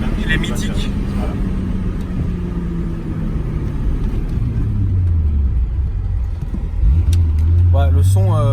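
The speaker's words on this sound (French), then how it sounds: "le son de la voiture est vraiment bien" VR6-engined car cruising on a motorway, a steady loud engine drone and road rumble filling the cabin, with the pitch rising as it accelerates near the end and people talking over it.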